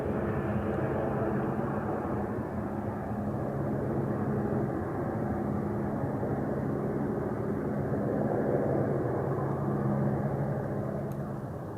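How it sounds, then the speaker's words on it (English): A continuous low engine drone of helicopters overhead, steady and moderately distant throughout, with no clear speech. "And that appears to be helicopters"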